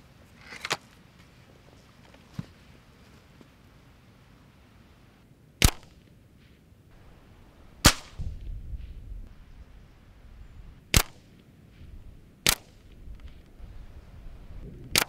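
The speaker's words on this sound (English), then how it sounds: "Let's do some shooting and see how it performs." Gas ram air rifle fired outdoors in cold weather, six or so sharp cracks spaced a few seconds apart, close and distinct, with faint handling noises and rustle between shots.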